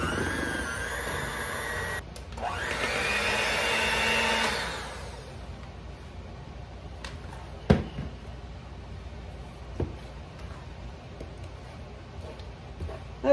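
An electric mixer whirs loudly for a few seconds beating cream cheese, powdered sugar and Cool Whip, then stops, leaving quiet kitchen clatter and a few scraping knocks.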